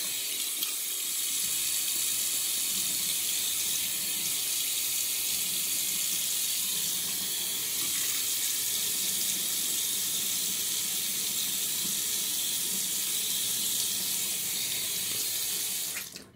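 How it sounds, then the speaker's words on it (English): Tap water runs steadily into a sink for about sixteen seconds while a 1920 Gillette Old Type safety razor is rinsed between shaving passes, a continuous close hiss with no talking. "We rinse and re-lather."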